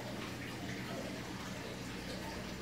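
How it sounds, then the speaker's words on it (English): A home aquarium runs in a room, giving a steady, faint wash of trickling and bubbling water that continues evenly without pause. "you can also hear the aquarium in the background"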